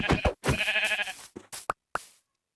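Sheep bleating in the video game Minecraft: a series of short, close, loud bleats, the first ones longer and tonal, then a few clipped, fading calls.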